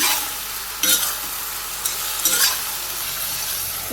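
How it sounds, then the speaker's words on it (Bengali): Vegetables for Bangladeshi shukto, cooked with small fish, being stirred in a hot pan, with a steady sizzle and several scraping strokes of a utensil close by. "সবগুলো সবজি দিয়ে দিলাম, নেড়ে করে নিই।"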